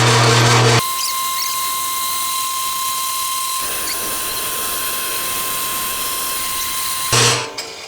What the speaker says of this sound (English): So, we'll drill our pilot. And then we're going to drill a little bit more than 1 inch deep.